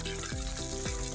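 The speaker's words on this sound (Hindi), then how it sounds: "इसके अंदर चिकन डालूंगी, इसको फ्राई कर लेना है" Chicken frying in hot oil for a lobia chicken dish, a steady dense sizzle with soft stirring movements, close and continuous.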